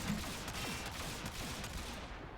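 Rapid gunfire from a kit gun in a video game, aimed at a level 135 corrupted heavy gunner, rattles in quick repeated bursts at steady loudness through the whole stretch with no talking.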